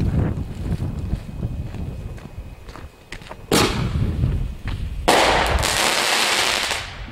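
Fireworks burst outdoors, a sharp crack near 3.5 seconds and then a loud explosion that rolls into a long crackling, sparkling hiss over a steady background rumble.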